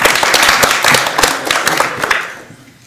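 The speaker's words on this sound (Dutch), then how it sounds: "Mag ik een applaus?" Festival audience applauds in a dense burst of clapping that fades away toward the end, with no talk over it.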